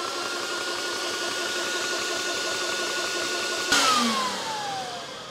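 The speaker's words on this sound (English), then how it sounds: "Fan bogs down a little bit, then it comes back." The fan on a budget PCP air compressor runs with a steady whirring drone, then briefly surges louder and drops in pitch as it bogs down before settling again.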